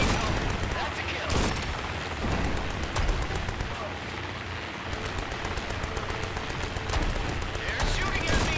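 Heavy gunfire in the 1949-era VR war game Grit and Valor, with rapid automatic bursts and scattered rifle shots cracking continuously over a rumbling battlefield din, dense and unbroken throughout.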